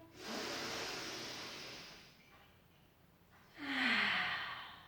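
Two long, breathy exhalations during a stretching exercise, the first soft and sustained, the second louder and airier after a quiet pause, close to the mic with no talking.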